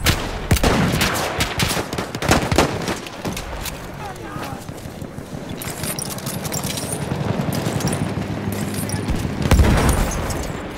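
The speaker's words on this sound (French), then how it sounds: "Mitrailleuse ennemie!" Enemy machine gun fire in the video game Battlefield 1, rapid bursts of automatic shots and booms crackling loudly through a busy battlefield, with voices in the game calling out over the gunfire.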